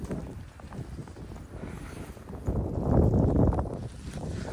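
Strong winds drive snow through a Canadian snowstorm, a loud, steady roar of gusts hitting the microphone that builds and grows heavier about halfway through.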